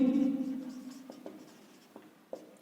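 Chalk or marker writes a maths solution on a board during a Class 10 lesson, with a few faint scratchy strokes and taps following a man's speech that fades out early.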